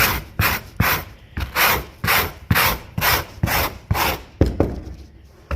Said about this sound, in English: you get a wire brush and you just start scraping